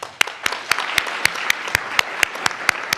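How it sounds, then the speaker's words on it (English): Thin, sparse clapping for the sponsors at a Canadian Club tech outlook business event. A handful of sharp, distinct claps land in a quick, fairly regular rhythm over a soft background of lighter applause. "I'd just like to offer another round of applause to our event sponsors."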